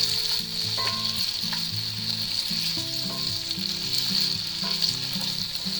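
Home fries and onions sizzle steadily in a hot pan while being stirred, a constant frying hiss with soft scraping and clinks of the utensil, no voices.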